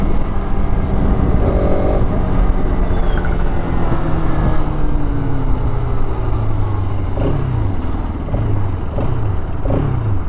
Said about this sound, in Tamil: நான் எக்ஸாஸ்ட் நோட் தனியாக காமிக்கிறேன் உங்களுக்கு.